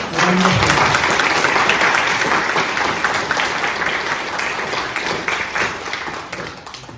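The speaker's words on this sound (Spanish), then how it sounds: "Recibamos con un aplauso" Conference audience at an International Maize Day event applauding to welcome a speaker, sustained loud clapping from a large room that starts strong and gradually tapers over seven seconds.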